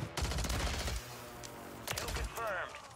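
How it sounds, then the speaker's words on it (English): Bursts of rapid gunfire from the Warzone 3 shooter game, a quick volley followed by another short burst and a sharp electronic whine, close and loud over faint game ambience. "Who you shooting at?"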